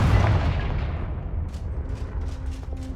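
A Confringo fire spell explodes in the video game Hogwarts Legacy: a loud, booming blast at the start that rolls off into a rumbling, crackling tail. No one speaks.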